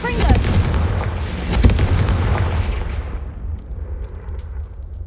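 The Confringo fire spell in a Hogwarts video game, a loud booming blast that rumbles and crackles, then slowly fades into a softer rushing tail.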